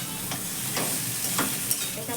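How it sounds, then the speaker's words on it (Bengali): Food frying in a pan at home, a steady close sizzle with occasional stirring scrapes, with no voices. "দেখো এখানে আমি রান্না করছি"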